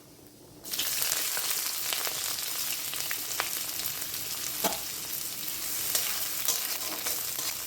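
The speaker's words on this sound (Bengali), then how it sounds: "পেঁয়াজগুলো একটু ভাজা ভাজা করে নিতে হবে, লাল লাল করে।" After a quiet start, a loud, steady sizzle of chopped onions frying in oil takes over, broken by occasional clinks of stirring.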